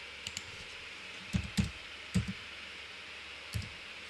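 Computer keyboard typing, with a few scattered soft key clicks at a gaming PC against a quiet background hiss. The keys come in small clusters with pauses between them.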